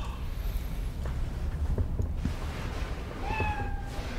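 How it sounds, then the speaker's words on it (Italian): A cat in the video game Cyberpunk 2077 gives a short meow near the end, over a dense steady ambient game rumble. "Oh, il gatto ha miegolato."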